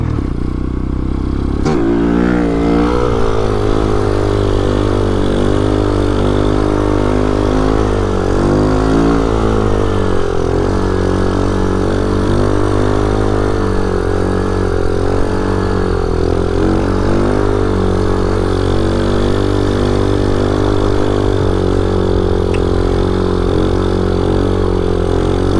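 A Vader 125 motorcycle, a Grom clone, runs steadily for the whole stretch, loud and close, with its engine note rising and falling as it revs and with some rattly clatter mixed in.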